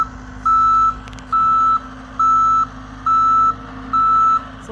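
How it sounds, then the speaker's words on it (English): A skid steer's backup alarm beeps five times at a steady pace, each tone evenly spaced, over a constant low engine drone. "we'll wait till he's done beeping."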